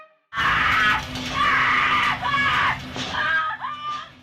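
A long, loud, sustained scream from a Stranger Things scene, with pitch wavering and breaking over about four seconds, raw and strained, with faint background sound beneath it.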